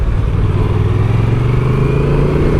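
A 2024 Honda Transalp 750 motorcycle engine pulls under acceleration, a steady, close, loud drone whose pitch climbs smoothly throughout.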